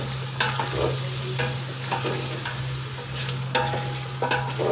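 Ginger and garlic fry in a pot for Hyderabadi chicken biryani, a steady close sizzle broken by repeated scraping stirs of a spoon against the pot, with no voices.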